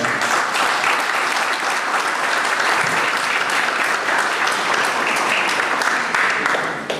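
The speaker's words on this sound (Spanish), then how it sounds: "para quien pido por favor un fuerte aplauso" Strong, steady audience applause for a guest speaker at a legal seminar on labor procedure law, continuous dense clapping from a sizeable crowd that tapers off at the very end.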